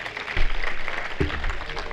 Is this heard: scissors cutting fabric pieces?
no